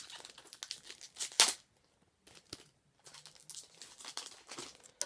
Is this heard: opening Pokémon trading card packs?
yes